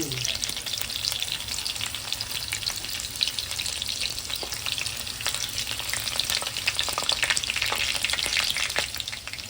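Close, continuous sizzling and crackling of garlic and curry leaves frying in hot oil as a tempering for fish curry, with steady fine spatter and scattered sharper pops throughout.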